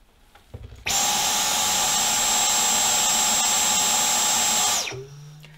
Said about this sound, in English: the first one we'll test is the Dyson on the minimum power setting